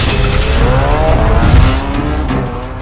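Motor and tyre-skid effects from a LEGO Nexo Knights motorcycle racing scene, a loud continuous engine whine with squealing skid noise throughout, swelling briefly near the middle.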